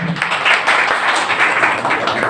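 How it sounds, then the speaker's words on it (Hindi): Hearty audience applause welcoming a former village sarpanch at a club felicitation event, dense continuous clapping throughout at a loud, even level. "उनके सत्कार से पहले एक जोरदार तालियों से उनका स्वागत किया जाए"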